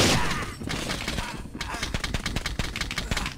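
Rapid gunfire rattles in the SWAT 4 video game, a loud opening burst followed by a string of sharp, evenly spaced automatic shots.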